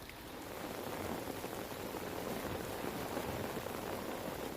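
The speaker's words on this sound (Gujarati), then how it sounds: "વલસાડ અને આસપાસના વિસ્તારોમાં પણ વરસાદ જોવા મળી રહ્યો છે" Steady rain falls during a heavy monsoon downpour around Valsad, a dense, even hiss of drops striking surfaces that holds at a constant level throughout with no voices.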